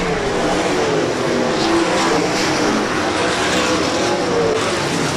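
Sprint cars in an MSTS 360 race at Rapid Speedway roar through traffic on lap four, a loud, continuous dense engine drone with shifting pitch as cars pass, steady throughout.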